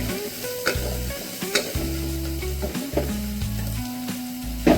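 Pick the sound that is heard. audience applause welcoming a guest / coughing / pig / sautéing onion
sautéing onion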